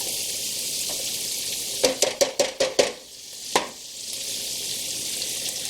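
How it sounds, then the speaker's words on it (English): Garlic and vegetables sauteing in a pan for a casserole, with a constant close sizzle broken by a quick run of five or six utensil clinks and one later knock. "I'm just sauteing some of this stuff, not till it's completely cooked."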